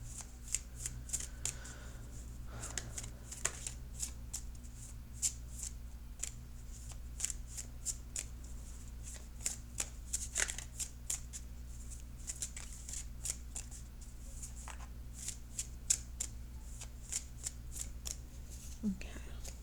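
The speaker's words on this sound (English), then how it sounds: "now I'm going to shuffle for an outcome card" Tarot cards being shuffled in rapid riffling bursts, crisp and close, repeating steadily over a low hum with faint murmuring in the background.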